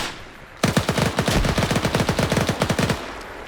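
Automatic PPSh submachine gun fire in a PvP match of the video game Arma, set in Indochina: one loud, sustained burst of rapid shots lasting over two seconds, then a sudden stop, with no talk.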